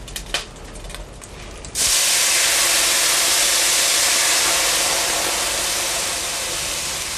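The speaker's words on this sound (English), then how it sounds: "Deglaze the pan." Guinness stout poured into a hot pan of browned bacon, beef and vegetables, bursting into a loud, sudden sizzling hiss after some quiet kitchen clatter, then fading slowly.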